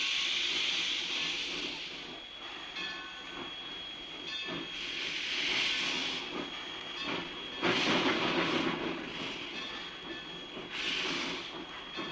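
A steam-hauled Monadnock Northern Railroad train rolls along with a steady hiss of steam and the rumble and clatter of the cars, its surges of louder chuffing noise recorded from on board and with no talk.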